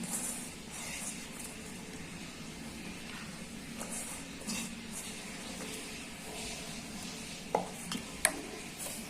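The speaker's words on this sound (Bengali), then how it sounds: "আগে থেকে বেছে রাখা মাছগুলো দিয়ে দিচ্ছি, কাটা ছাড়াই নিচ্ছি।" Deboned snakehead fish added to a hot pan and stirred, a steady soft sizzle with scraping spatula strokes and a couple of sharp metallic clinks near the end, close and moderate with no talk.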